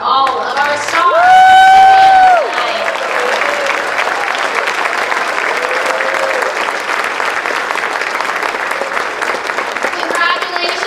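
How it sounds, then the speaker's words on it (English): An audience at an award evening applauds the star award winners and retirees, a loud sustained wash of clapping with a brief tonal voice or instrument swell near the start. "And another round of applause for all of our stars."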